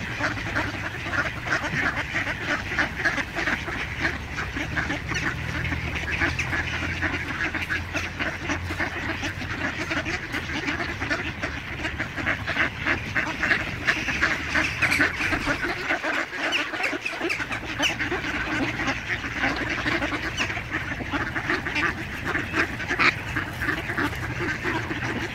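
A flock of ducks on a city pond in Uppsala, Sweden, in cold late winter, quacks continuously at close to moderate distance, with overlapping calls and honks and no talking.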